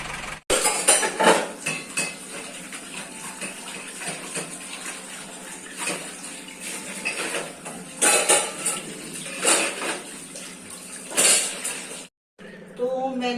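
A kitchen container being washed, probably a pot used for making ghee, gives repeated clinks and scrapes of metal dishes with running water, close and busy throughout, while someone talks over it.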